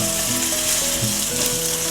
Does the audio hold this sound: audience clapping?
no